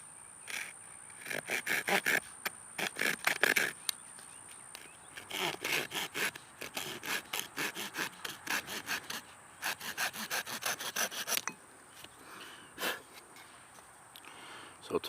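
A wooden trigger stick for a deadfall trap is trimmed with quick rasping saw or scraping strokes in bursts of rapid back-and-forth rubbing, close by, with pauses between sets and occasional speech.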